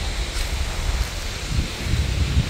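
Wind gusting on the bank of the Danube at a riverside fishing camp, a steady low rushing buffet against the microphone with rustling, fairly loud and continuous, no talk.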